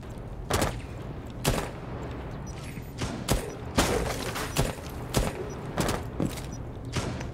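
Gunfire in the video game Rainbow Six Siege, a string of sharp loud shots at irregular intervals, roughly a dozen cracks over a low steady background.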